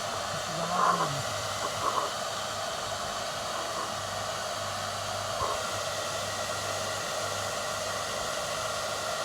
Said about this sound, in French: Je vais le chauffer au maximum jusqu'à ce qu'il devienne suffisamment ramolli.